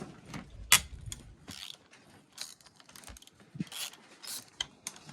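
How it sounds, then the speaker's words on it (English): A hand ratchet loosens bolts on the suspension of a 2021 Honda CRF 450RX, making quick irregular clicking bursts with metallic ticks and light tool handling, close and fairly quiet. "This is where the ratchet gets a little easier, because you don't have the fork, the hand guard in the way. You just use the ratchet here."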